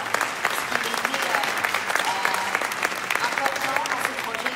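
Audience applause at the Talents des Cités 2017 award ceremony as a man joins the stage, a steady dense clapping from a large crowd holding at even loudness throughout.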